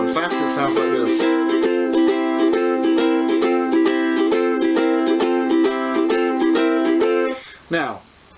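A ukulele strums a steady rock and roll rhythm pattern, crisp repeated chord strokes in even time played close, ending with a short upward slide.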